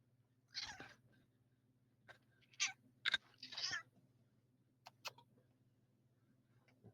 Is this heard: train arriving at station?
no